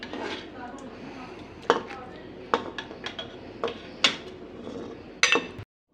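Pots and utensils clink and knock while arbi gosht curry is dished out: a string of sharp metallic taps and scrapes spaced a second or so apart, close by and moderately loud, with a faint voice underneath.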